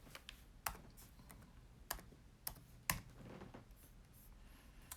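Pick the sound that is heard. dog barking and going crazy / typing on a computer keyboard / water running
typing on a computer keyboard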